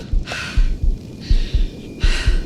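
A heartbeat thumps in The Invincible video game, loud and close in a steady double-beat rhythm, paired with breathy swells of sound between the beats.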